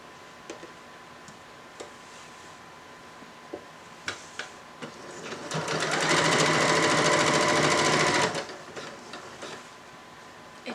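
A sewing machine ticks softly, then runs a steady burst of stitching for a couple of seconds before slowing back to scattered ticks and clicks; close and fairly quiet, with no talking.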